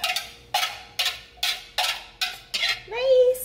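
A syrup mixture is stirred in a pot at a campsite, with about seven rhythmic scraping strokes close by and a voice speaking at the end.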